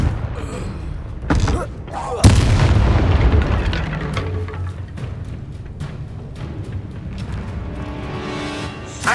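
Confringo blasting spell explosions in the video game Hogwarts Legacy, several loud booming blasts with sharp bursts and rumbling tails, one especially heavy impact, amid other game effects and low voices.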